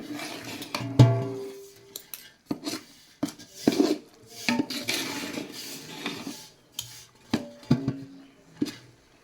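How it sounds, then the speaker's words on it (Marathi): A spoon stirs two kilos of gram flour through a kilo of ghee in a pot, producing irregular scraping, rubbing and clacking strokes against the metal with short pauses between them. "आता हे व्यवस्थित हलवायचं"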